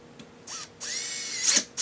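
A power drill whirs in short bursts while driving screws into a wooden raised garden bed, spinning up and winding down a few times with brief pauses between, close and fairly loud.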